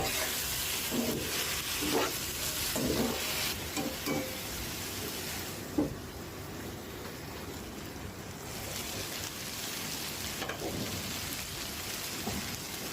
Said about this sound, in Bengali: ঢেকে রান্না করে নিব দুই মিনিটের মতো আর একটু নেড়ে দিব